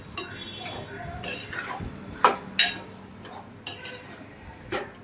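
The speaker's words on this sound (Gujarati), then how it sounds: "અંદર કેરીના કટકા નાખી દઈશું અને પછી આવી રીતે હલાવી લઈશું" A spoon stirs mango pieces in a metal pot for jaggery mango pickle, giving a few sharp clinks and scrapes against the pot at irregular intervals, close by, with someone talking quietly in between.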